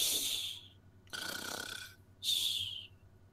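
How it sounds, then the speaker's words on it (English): Soft snoring from a sleeper in the next room, heard as three slow breathy snores with pauses between them, close and quiet with no talk. "you hear a soft snoring coming from the next room"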